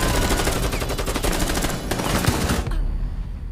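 Rapid automatic gunfire in Rainbow Six Siege, a loud dense rattle of shots that runs almost without a break before it cuts off near the end.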